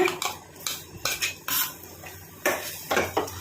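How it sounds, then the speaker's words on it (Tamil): Coconut paste being stirred into pineapple pachadi in a pan, with a series of close, sharp spoon clinks and scrapes in an irregular rhythm, no talk. "நல்லா கலந்து கொடுங்க."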